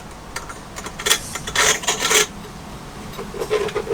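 Short bursts of ratcheting and scraping as an exhaust clamp is tightened on a Webasto van heater, a few rough metallic clicks close by in a quiet space, with no talking.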